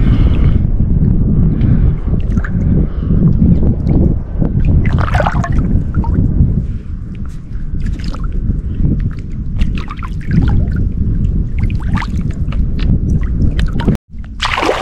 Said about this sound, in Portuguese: Tá ventando muito, meus amigos.